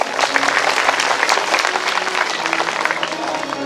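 An audience at a Bhagwat Katha gathering applauds continuously, a dense, steady wash of clapping from many hands that carries evenly through the clip, with faint voices mixed in.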